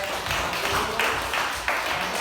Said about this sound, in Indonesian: kita kasih applause, tepuk tangan dulu kelompok 1, 2, 3